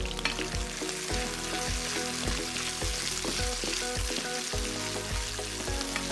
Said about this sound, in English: can smell the grapeseed oil, so I'm going to put in the onions.